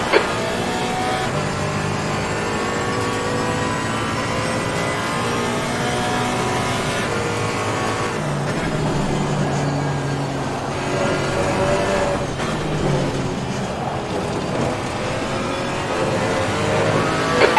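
Race cars in the video game Assetto Corsa Competizione drone steadily with engines revving and shifting through gears, several cars close together throughout, loud and continuous with no talk.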